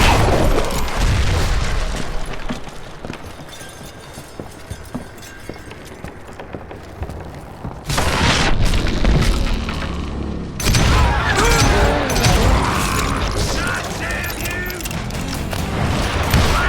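Dynamite charges blowing up in the Western shooter Call of Juarez: Gunslinger, loud broadband blasts at about 8 and 10.5 seconds that ring out over a dense, noisy game soundscape with galloping and gunfire.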